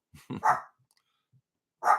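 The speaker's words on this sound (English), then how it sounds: "A dog says thank you as well." A dog gives a quick pair of close barks, then falls silent before letting out one more single bark.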